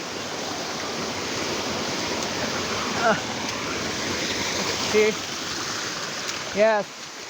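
Nappitachhara waterfall, reached over slippery rocks and large boulders, gives a steady, loud broadband rush of falling water that fills the whole clip, with a few brief voices breaking in over it.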